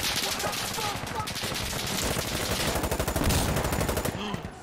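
Rapid automatic gunfire rattles in close, dense bursts throughout a round of the shooter game Insurgency Sandstorm, loud and nearly unbroken.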